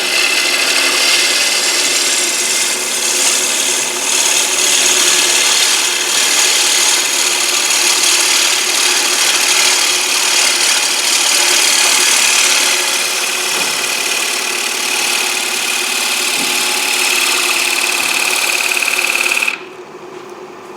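Wood lathe spinning steadily while a gouge cuts on the tool rest for a butterfly patch inlay, a loud continuous hiss and whir that runs for about twenty seconds before the cutting stops.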